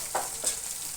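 Egg dropped into hot fried masala for a dhaba-style egg tadka, a steady sizzle and crackle of frying with brief stirring scrapes, close and continuous with no talking.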